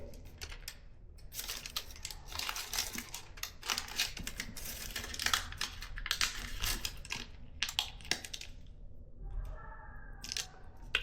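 Origami paper being squash folded for a fighter jet model, with its pocket opened and pressed flat: close, continuous crinkling and soft crisp rustles with small clicks, fading to a quieter stretch near the end.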